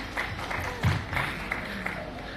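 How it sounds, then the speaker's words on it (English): An audience at a yacht launch event in Phuket claps for a speaker named Clem. The applause is a steady, moderate wash of hand claps with a few louder bursts, and faint voices sit underneath. "big round of applause for Clem"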